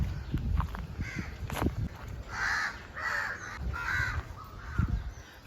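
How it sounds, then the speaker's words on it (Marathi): Several crows caw in a run of harsh calls at moderate distance on a film set, mixed with scattered thumps and shuffling nearby. "आमच्या सेटवर ना खूप असे कावळे वगैरे येतात"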